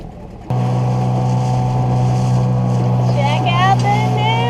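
A new Yamaha outboard motor on a dinghy at Staniel Cay in the Bahamas starts up and runs with a loud steady drone close by, with a voice briefly heard over the engine.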